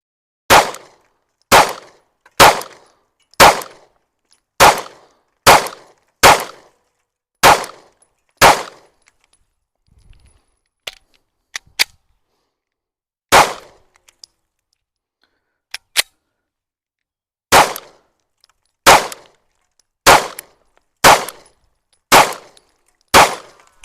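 Sharp pistol shots crack loudly at an outdoor target, a steady run of about nine rounds, a pause with faint clinks and one lone shot, then another quick string of shots.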